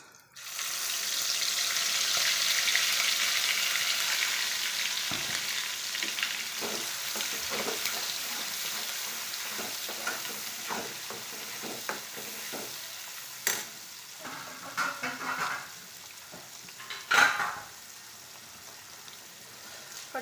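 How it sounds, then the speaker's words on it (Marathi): Spice masala frying in oil in a pan for chicken, a bright steady sizzle with scraping stirs and clinks of the spoon, close up, easing toward the end. "तेलामध्ये मसाला असा परतून घ्यायचा"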